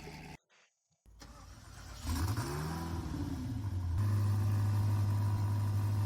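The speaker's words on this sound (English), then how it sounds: "Now, I'm not sure if an SSC Tuatara is supposed to sound this soft." An SSC Tuatara hypercar in the Roblox game Driving Empire starts up after a short silence, revs once with a rising then falling whine, and settles into a smooth, fairly soft, steady drone.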